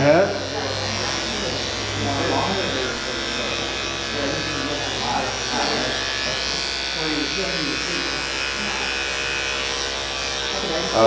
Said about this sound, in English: recently I've been using my animal blade clipper